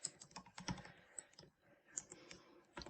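Someone types on a computer keyboard to enter a password, a quick, uneven stream of close, light key clicks with brief pauses, and no one speaks.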